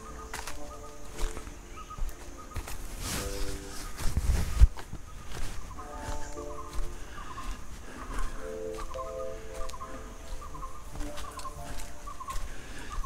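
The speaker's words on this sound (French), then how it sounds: "On entend les oiseaux." Forest birds in Khao Yai National Park, Thailand, call repeatedly over a steady outdoor hum, some sharp chirps and clucking notes, with a brief louder rustle near the middle.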